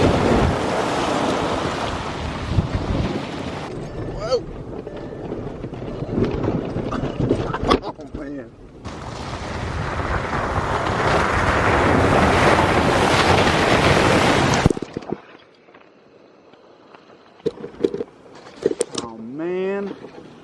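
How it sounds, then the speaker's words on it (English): VW Touareg TDI on stock tires driving fast through an icy puddle, throwing up loud rushing surges of water in two long bursts, followed by quieter wind buffeting and brief voices near the end. "Let's hit this puddle with some speed."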